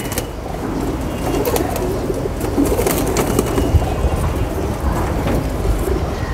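Pakistani pigeons coo in a low, rolling, continuous murmur from several birds close by, with faint rustling and scattered clicks in the background.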